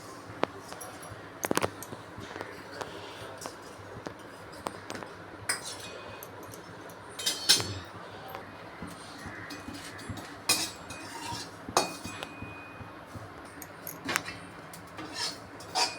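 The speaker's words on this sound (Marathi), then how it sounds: "परत मी खसखस भाजून घेते" Poppy seeds are dry-roasted in a pan without oil, the spatula giving scattered light clinks and scrapes against the metal over a soft, continuous background hiss. No voices.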